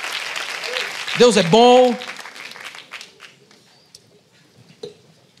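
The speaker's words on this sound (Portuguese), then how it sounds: "dê uma salva de palmas a Jesus" Congregation applause in a church fills the opening seconds, then thins and fades out while a preacher talks over it, leaving near-quiet with scattered small sounds.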